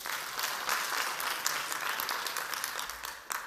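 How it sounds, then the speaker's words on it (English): Audience members at a talk on essential oils clap their hands together, a busy, even wash of applause lasting a few seconds, heard from a moderate distance with no voices over it. "please clap your hands for me."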